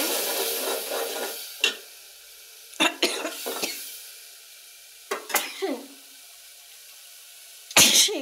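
Spice paste for a rohu fish curry is stir-fried in a pan, a soft sizzle punctuated by a handful of separate, sharp scraping bursts from the spatula, spaced a second or two apart.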